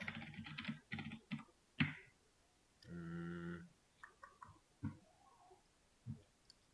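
Quick bursts of keystrokes on a computer keyboard while typing code, close and crisp, broken by a short electronic tone and scattered individual key taps.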